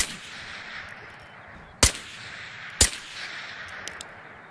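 Gunshots in the video game Ghost of Tabor: two sharp, loud single cracks about a second apart stand out over a faint hiss, followed by a couple of softer distant shots.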